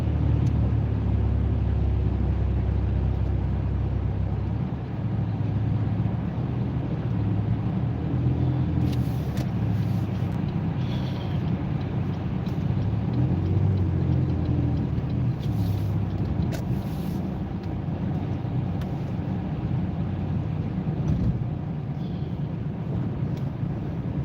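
A car merging onto a major freeway via a weave lane, heard from inside as a steady, loud low engine and road rumble with wind noise, continuous throughout with no talking.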